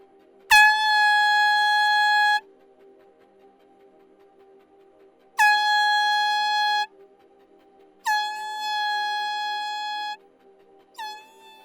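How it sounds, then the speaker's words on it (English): A very loud air horn sounds in four separate blasts: three long, steady ones of about two seconds each, then a short final toot, all close and with near silence between them. "Notice how loud this horn is."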